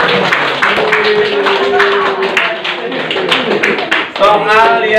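A class of students in an Indonesian classroom lesson claps their hands together, producing a quick series of sharp, close claps mixed with voices talking over them.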